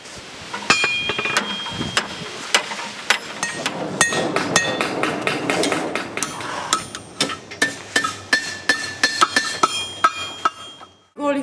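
A blacksmith forges steel, striking it with a hammer in a long run of sharp, ringing metallic blows. The strikes start dense and come at a quicker, more spaced rhythm toward the end.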